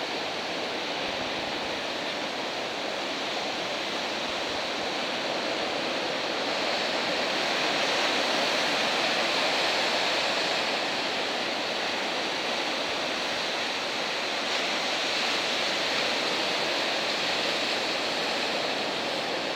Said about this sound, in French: des vagues partout, au nord, au sud